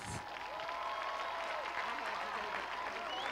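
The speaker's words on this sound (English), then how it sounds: "Let's give these young ladies a round of applause." Sustained applause from a high school graduation audience, with the class of 2014 and its young women being honored; steady, dense clapping fills the whole stretch with some crowd noise mixed in.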